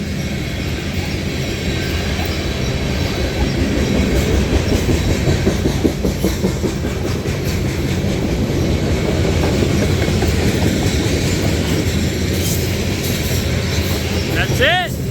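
A long train rumbles past close by, wheels clacking steadily over the rails, with a brief metallic squeal near the end.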